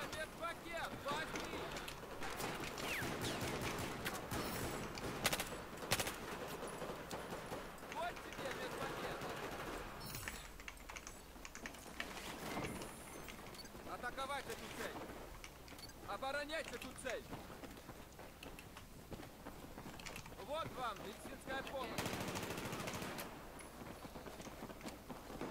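Gunfire in the Battlefield 4 shooter game, with repeated bursts of shots and loud impacts scattered across a busy, noisy battle soundscape, and someone talking over it at times.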